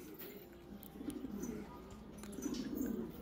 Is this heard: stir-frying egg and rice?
no